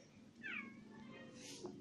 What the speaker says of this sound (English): Calm down, little kitty.